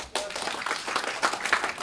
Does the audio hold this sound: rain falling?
no